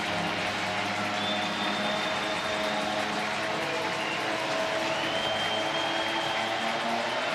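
Football stadium crowd at a college game between Indiana State and North Dakota on a breezy day, a loud, sustained roar of cheering on third down that holds steady throughout, with faint whistle-like tones over the wash of noise.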